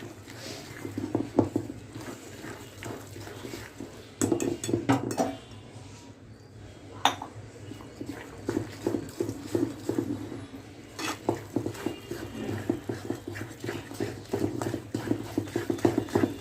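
Egg batter for egg paratha being whisked in a bowl, a rapid rhythmic clatter of utensil against the vessel in quick bursts with short pauses, close and fairly loud, no speech.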